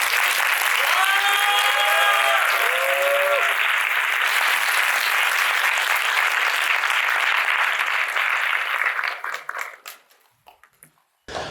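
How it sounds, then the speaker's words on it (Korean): A university lecture-hall audience at Seoul National University gives loud, sustained applause for a guest, mixed with a few whoops of cheering early on. The clapping then fades out near the end before a sharp noise. "큰 박수 부탁드립니다."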